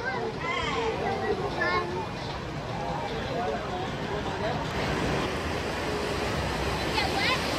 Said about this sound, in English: You want to go underneath the waterfall coming up?